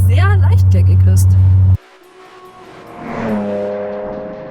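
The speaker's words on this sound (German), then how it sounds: "Der kernige Sound ist übrigens nicht serienmäßig. Hier wurde mit einer maßgefertigten Auspuffanlage nachgeholfen." An Alpina B3 3.0 fitted with a custom-made exhaust system: a loud, deep engine note cuts off abruptly, then the engine revs up again with a rising, throaty drone that fades slightly.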